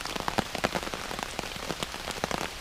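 Rain falls steadily on a campsite during a bushcraft camping trip, a dense patter of close drops tapping on surfaces, fairly quiet and continuous with no voices.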